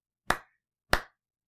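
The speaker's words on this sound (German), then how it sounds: "Kurzer Applaus, Frequenz hier." Two sharp claps about half a second apart, crisp and close, with silence between them.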